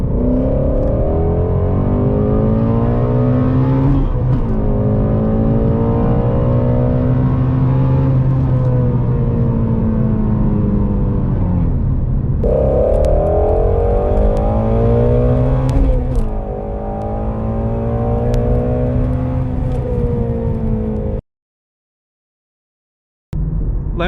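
A Ford Shelby GT350 V8 roars through a hard acceleration pull from 40 mph, loud and close, its pitch climbing through repeated gear shifts before a sudden cutoff near the end.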